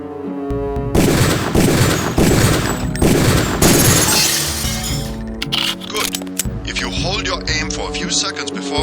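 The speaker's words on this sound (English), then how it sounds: "Release the first target and take a few shots with one of the pistols until it is destroyed." Pistol fire at training targets in Deus Ex, a series of loud close shots in rapid succession followed by clattering breaking sounds as the targets shatter, with a voice talking over it.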